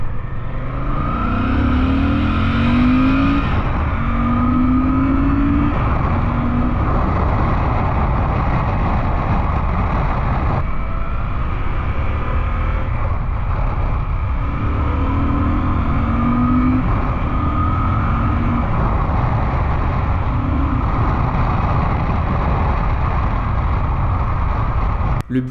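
A Yamaha 900 TDM's 900 cc twin-cylinder engine rumbles continuously and revs up repeatedly in long surges, loud and close throughout.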